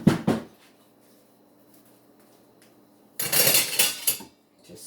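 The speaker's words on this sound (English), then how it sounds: "So let me get a spoon here." A spoon picked up and handled among dishes while making a vegan sweet potato pie, brief clinks at the start and a longer clatter of metal on dishware near the end, with a quiet stretch between.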